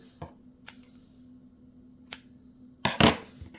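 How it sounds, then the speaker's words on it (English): Scissors snipping crochet yarn after finishing a granny square, a few sharp isolated clicks spread apart, then a quick double snip near the end in a quiet room. "slip stitch into the 3rd chain and then cut my yarns, both of them"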